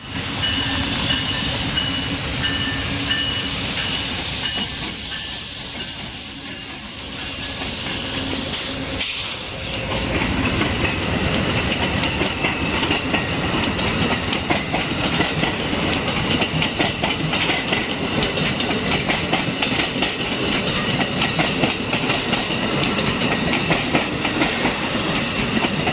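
Amtrak passenger train number 6 passes a street grade crossing in the rain, a long loud rush of rolling wheels and rhythmic clickety-clack with hissing spray that swells near the middle and holds steady to the end.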